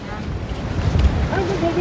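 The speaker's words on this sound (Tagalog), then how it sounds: "lakas ng hangin, malaki din yung alon" Strong wind buffets the microphone in a steady low roar at a coastal spot on Siargao Island, with faint voices and a brief tonal sound near the end.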